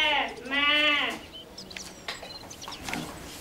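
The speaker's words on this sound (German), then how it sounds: "Ich bin ein Schaf." A sheep gives one loud, close, wavering bleat in a farm-animal setting, followed by faint scattered background sounds.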